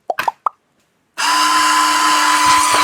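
A battery-operated electric spiral peeler is switched on. A few soft plops and knocks come first, then a short pause, and then a steady, loud whirring motor hum that starts abruptly and keeps running evenly to the end.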